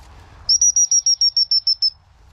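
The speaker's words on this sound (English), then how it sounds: "He knows them birds are up there." A bird overhead gives a rapid run of about ten sharp, high, evenly spaced chirps, loud and clear against a quiet outdoor background.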